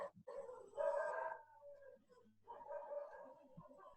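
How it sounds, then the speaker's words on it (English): Dogs outside bark and howl in two drawn-out bursts, faint and somewhat distant, with yips between the howls. "There's some dogs out there."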